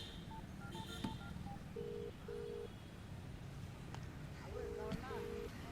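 A borrowed mobile phone is dialed, producing a series of short keypad tones followed by a repeating ringback tone, faint against background street noise and wind.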